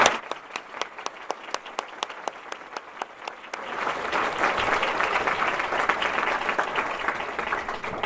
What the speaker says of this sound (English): Can we give one more round of applause to all of our honorees?